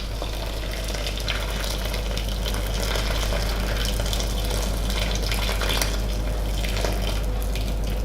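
Hot water from a whole kettle poured steadily into a container, a continuous bright rushing gush with a low hum underneath, close and loud without pause.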